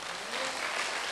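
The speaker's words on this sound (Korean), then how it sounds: "하나님께 영광의 박수입니다." A church congregation applauding at an evening revival service, a steady wash of clapping that starts moderate and swells slightly louder partway through, with no voices over it.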